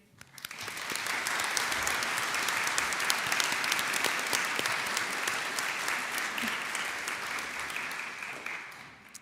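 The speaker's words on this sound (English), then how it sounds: "So please clap, cheer and celebrate yourselves and the others around you" Graduates at a Fife College graduation ceremony clap and cheer together, a dense, sustained wave of applause filling the hall steadily for several seconds after a quick rise.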